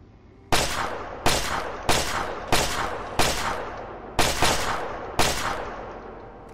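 Seven sharp laser-weapon shots ring out in the Fallout 3 video game, fired singly at a steady, slightly uneven pace. Each crack is loud and close, followed by a short decaying tail, with no voices.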